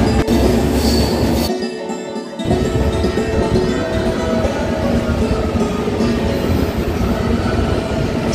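Visakhapatnam–Kirandul passenger train rolling along the rails, a loud continuous rumble and rattle heard from inside, briefly dipping then returning to a steady roar.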